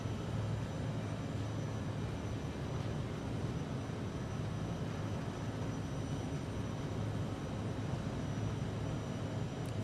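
Airliner engines roar through a takeoff roll in a flight simulator game, a steady, dense, broadband rush that holds an even level from start to finish with no voices or breaks.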